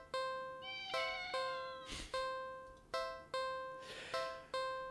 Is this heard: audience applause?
no